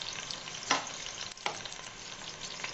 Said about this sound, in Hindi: मैंने इसमें 1 कप ऑयल डाल लिया है और तेल भी गर्म हो गया है। अब इसमें जो है मैं प्याज ऐड कर रही हूँ